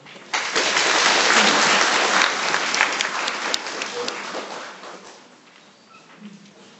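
An evening lecture audience applauds to welcome the guest speaker, a dense burst of clapping that swells quickly, holds for a few seconds, then tapers off gradually.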